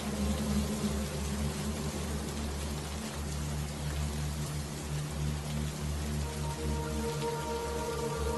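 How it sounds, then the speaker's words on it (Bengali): Steady cartoon rain falls continuously at night, a soft even patter with a low background hum, fairly faint and unbroken, with no voices. "সেই কখন থেকে বৃষ্টি শুরু হয়েছে, এখনো থামছে না।"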